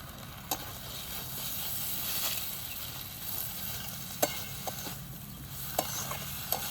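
A mustard and poppy seed paste with a pinch of turmeric fries in a pan, giving a steady low sizzle with scattered small pops and stirring clicks. Close and fairly quiet, with no voices.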